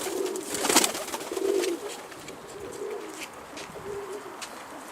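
Homing pigeons coo nearby in soft, low repeated phrases, one louder near the start, with faint rustling in the background.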